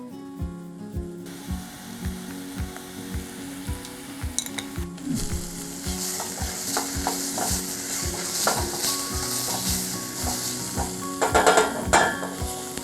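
Smoked paprika and spices scraped and stirred in a frying pan, with a steady rhythmic scrape of the utensil over a rising sizzle that grows louder and hissier partway through, close and without talk.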